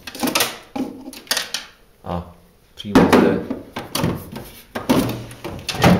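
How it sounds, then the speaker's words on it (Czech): The middle drawer of a household freezer opens and shuts several times in a row with plastic thunks and sliding scrapes, and someone speaks Czech in between. "Dáme to do prostředního šuplíku,"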